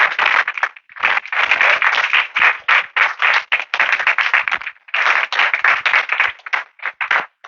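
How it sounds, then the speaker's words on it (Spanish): Bursts of congregation clapping at a church sermon, close and uneven, coming in choppy waves with short gaps and a few isolated claps in between. "Dale otro aplauso."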